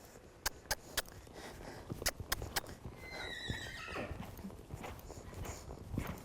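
A horse loping in an arena: sharp hoofbeats thud close by in a quick rhythm at first, then a high whinny-like squeal rises midway and the footfalls carry on more softly, with no talk.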